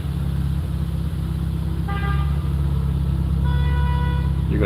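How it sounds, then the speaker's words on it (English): Several car horns honk in the street in two bursts over a steady idling engine rumble heard from inside a car, moderately loud and continuous. "You're gonna hear some honking for a minute because they're gonna sit there and honk"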